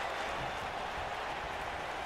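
Continuous arena crowd roar from a WWE 2K wrestling game backing Sami Zayn against Apollo Crews, a dense, even wash of cheering and applause-like noise at moderate level.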